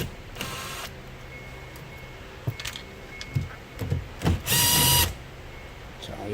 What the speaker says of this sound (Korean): 요 10mm 볼트 3개를 풀어줍니다